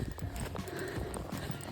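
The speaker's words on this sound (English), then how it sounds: "Somebody's happy horse." Hooves of a horse clop in a steady rhythm on a pasture, with a short whinny mixed in, fairly close and moderately loud over a busy outdoor background.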